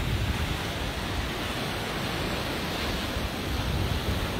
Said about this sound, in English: The sea is lapping and relaxing.